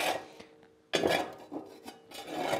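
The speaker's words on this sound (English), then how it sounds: "I take my little shovel, and I try to push all my ash to one side" A small metal shovel scrapes and pushes ash inside a wood stove, in short rasping strokes with brief pauses, close and fairly quiet.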